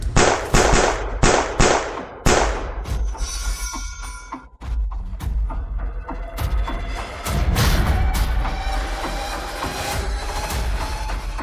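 Many shots fired in rapid bursts, sharp loud cracks and thumps crowding together at first, then a dense, continuous clatter of impacts and booms with no voices.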